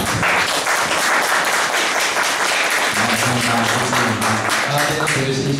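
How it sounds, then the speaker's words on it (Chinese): An audience gives a warm round of applause, a dense, steady wash of clapping that stays loud throughout, joined by a faint low tone in the second half. "所以请大家给他们再次热烈掌声"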